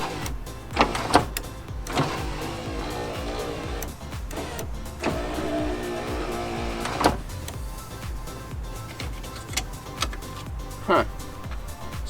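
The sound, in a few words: power window motor of a 1993 C4 Corvette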